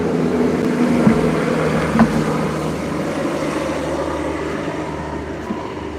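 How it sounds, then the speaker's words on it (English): Steady low broadband rumble of an airplane passing overhead, a continuous drone filling the whole stretch at moderate loudness with no talk over it. "Do you hear the airplane?"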